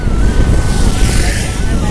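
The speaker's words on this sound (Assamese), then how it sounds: "চাউণ্ডটো বহুত ডাঙৰ জোৰত বতাহ দিছে" Strong wind buffets the microphone outdoors near a Lord Shiva statue in Nalbari, producing a loud, steady rumbling roar that covers everything else.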